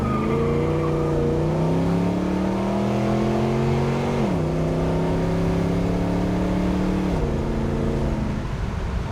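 A 1970 Chevrolet Nova SS engine pulls hard from inside the car, rising steadily in pitch through two gears with clear shift breaks, loud and close with no talking.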